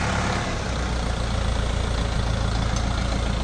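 A Jinma 404 tractor with a 40-horsepower engine runs at a steady idle nearby, a constant low diesel rumble with no variation.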